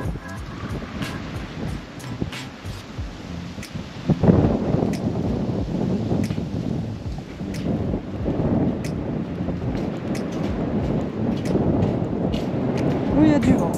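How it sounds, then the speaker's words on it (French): Steady wind rumbles and buffets against the microphone throughout, gusting stronger midway, with faint background activity. "Oui, il y a du vent."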